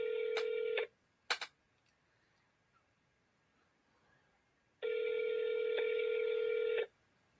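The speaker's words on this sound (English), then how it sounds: "All right, I'm going to call him back." A landline phone is dialed to return a call, giving a short tone, a couple of quick clicks, then a long steady electronic tone after a quiet gap, with no talk.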